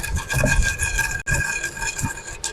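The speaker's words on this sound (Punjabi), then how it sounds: "ਕੁੰਡੇ 'ਚ ਪਾ ਲੈਨੇ ਆ ਮਸਾਲੇ ਆਪਣੇ ਠੰਡੇ ਹੋ ਗਏ ਆ ਇਹਨੂੰ ਆਪਾਂ ਰਗੜ ਲੈਨੇ ਆ" Roasted spices for pickle being ground by hand in a mortar, a steady rough rubbing and rasping that runs continuously with a brief pause partway, close and loud.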